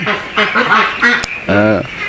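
A large duck of about three to three and a half kilograms quacks loudly and close by, giving around four short, nasal calls in quick succession.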